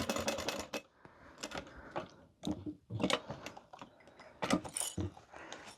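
A sewing machine top stitching the sides of a crossbody bag with a zipper, bursts of rapid mechanical clatter starting and stopping in short runs, close and clear with no talking.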